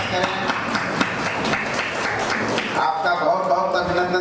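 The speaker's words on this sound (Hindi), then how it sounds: "मैं आप सबसे आग्रह करता हूँ कि आप तालियां बजाकर उनका स्वागत" Audience applause welcoming guest Shri S.P. Sinha at a farewell program at K.N. Baxi College of Education, continuous dense clapping from a crowd with some talk underneath.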